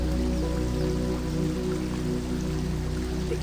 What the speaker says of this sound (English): A waterfall, timeless, powerful, soft and strong all at once.